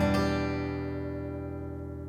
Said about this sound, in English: We're still strumming all six strings